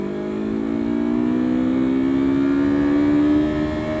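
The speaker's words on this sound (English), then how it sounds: "right now I'm on a motorcycle" A motorcycle engine hums steadily while riding, its pitch slowly rising as it revs, loud and close throughout with constant wind and road noise.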